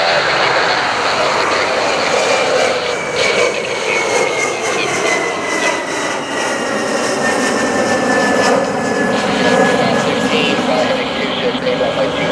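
Jet aircraft engines at Philadelphia International Airport, a loud continuous roar with a steady high whine held close for the whole stretch, with radio chatter briefly mixed in.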